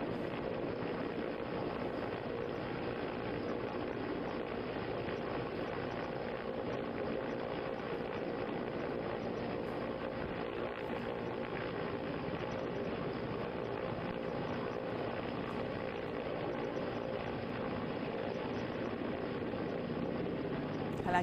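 An Indian Air Force rescue helicopter hovers during a flood rescue, a steady, dense rotor and engine roar that stays constant and fairly faint for over twenty seconds.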